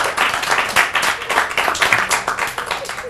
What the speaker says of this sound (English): That got the biggest clap so far